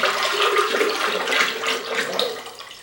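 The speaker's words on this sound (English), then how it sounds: "I simply pour it into the jar." Thinned clay slip, a water-suspended clay mixture, pouring steadily into a jar during pottery work, making a continuous close, liquid splashing rush across the whole stretch.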